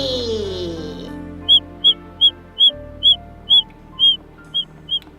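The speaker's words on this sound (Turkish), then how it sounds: "kuşlar ne kadar güzel ötüyor değil mi?" A regular series of short, high chirps, about ten in a row at an even pace, over a soft low background hum.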